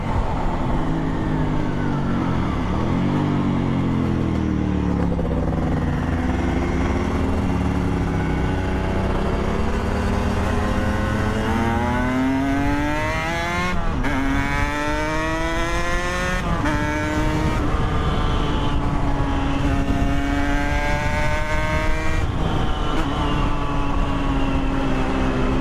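A 125cc motorcycle being ridden, its engine revving up and down in repeated rising and falling sweeps, loud and close throughout with steady wind rush.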